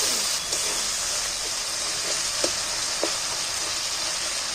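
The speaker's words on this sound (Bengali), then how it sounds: "মাংসটা ভালো করে কষিয়ে নিচ্ছি।" Mutton fried in a pot with turmeric and a splash of water gives a loud, continuous close-up sizzle and hiss, broken by a few sharp clicks as a spoon stirs the meat.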